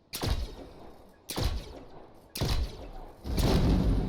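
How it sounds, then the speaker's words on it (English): Gunfire in the sci-fi game The Signal from Tolva, four heavy booming shots spaced about a second apart, each with a rumbling decay, no talk over them. "because I hear gunfire"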